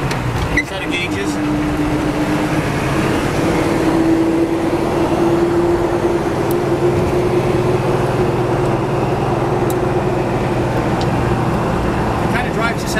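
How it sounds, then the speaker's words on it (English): A 1952 Suburban on a test drive, its engine and road noise forming a loud, steady droning rumble from inside the cabin, with a faint rising whine partway through. "It kind of drives just how you'd expect a big old Suburban to drive."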